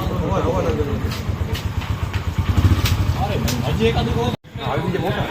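A motorcycle engine runs steadily up close while riding, its low rumble continuous, with a brief cut near the end.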